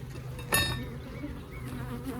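Honey bees buzz around a beekeeper's head by an open Layens hive, a close, steady droning hum with one louder bee sweeping past nearby.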